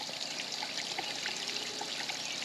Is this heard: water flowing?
yes